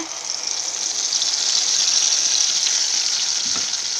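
Loud, steady sizzling and hissing of ground spice paste frying in hot oil for paneer kurma, bright and continuous for a few seconds with a faint stirring scrape.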